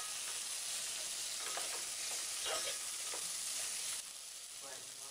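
Turmeric and chili powder stirred into a hot pan for an egg curry, a steady close sizzle with soft spoon scrapes, dropping slightly quieter near the end.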